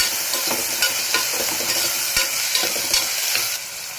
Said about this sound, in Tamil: வதக்கி விடுங்க.